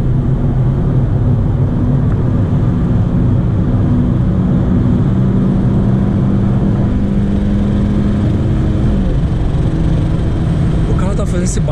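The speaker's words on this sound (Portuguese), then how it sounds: "O carro tá fazendo esse barulho de aerodinâmica." Steady broadband wind roar fills the cabin of a 2011 Honda Civic LXL 1.8 manual cruising on a highway, with a low engine and road hum running continuously underneath for the whole stretch.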